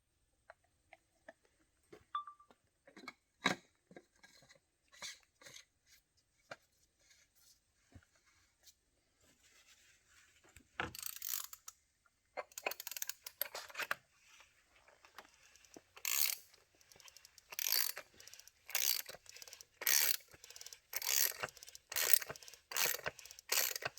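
A ratchet tightens the oil filter housing on a Jaguar F-Pace during an oil change, with a GE 76302-291 filter. Sparse clicks give way to rapid bursts of ratcheting from about halfway through, close by, with no talk.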